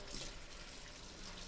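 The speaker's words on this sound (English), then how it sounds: "I want to go ahead and rinse out these a little bit." Hot tap water runs steadily into a sink while pots and pans are rinsed, a continuous soft hiss and splash, close but fairly quiet, with no talking.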